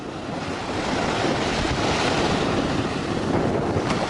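Ocean surf washing in at the water's edge, a steady broadband roar of breaking waves with wind buffeting the microphone, loud and continuous throughout with no talking.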